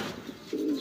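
Pigeons at a pigeon seller's stall giving a soft, low coo at close range, a short throaty call rising at the end.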